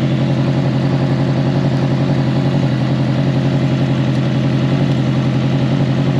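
A Honda CB900 Custom motorcycle engine idles steadily up close, a loud, even low rumble with rapid regular firing pulses and light mechanical clatter, unchanging throughout with no voices.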